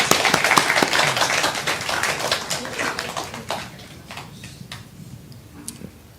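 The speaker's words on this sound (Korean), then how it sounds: "Let's all give a big round of applause for all our mothers." A church congregation claps for the mothers, a dense round of applause that starts strong and gradually thins to scattered claps toward the end.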